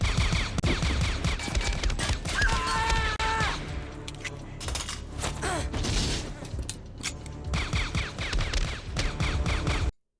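Film-scene gunfire from Terminator 2, a dense fusillade of sharp shots mixed with mechanical clatter and score, loud and continuous before cutting off abruptly at the end.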